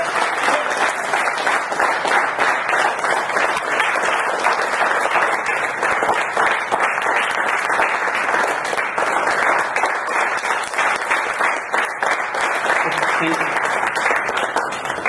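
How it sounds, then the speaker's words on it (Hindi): An audience at a leaders' kickoff session in Jaipur claps loudly and steadily in welcome, a dense, sustained applause heard alone throughout. "ये जोरदार ताली होनी चाहिए"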